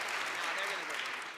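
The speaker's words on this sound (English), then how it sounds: "Everybody seemed to be clapping," Polite, tepid clapping from a festival forum audience at a Shakespeare debate, steady and even across the moment with no cheering.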